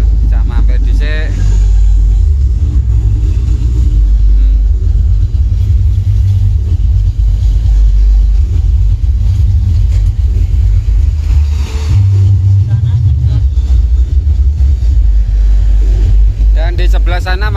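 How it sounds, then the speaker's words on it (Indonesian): A truck engine runs with a loud, steady low rumble and a brief rise in revs near the end, while people talk over it. "Ini truk satunya."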